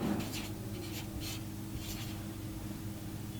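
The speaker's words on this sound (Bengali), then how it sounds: "তৃতীয় সংখ্যাটি আমরা লিখি" Numbers being written by hand during a maths lesson, a series of soft scratchy pen or chalk strokes in short bursts over a low steady background hum.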